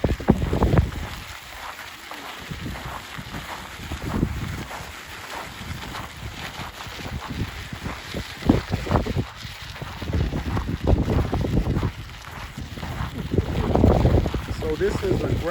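A stroller's wheels roll over a gravel trail with a continuous loud crunching and grinding, uneven in strength, mixed with gusty wind noise on the microphone.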